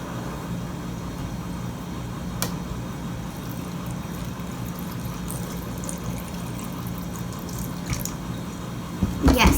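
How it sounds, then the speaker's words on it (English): Sunny D orange drink pours into a blender for a strawberry banana smoothie, a steady continuous liquid stream over low background hum, with a few faint clinks. "Now we are going to pour in the Sunny D"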